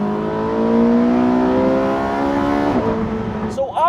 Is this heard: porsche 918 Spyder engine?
yes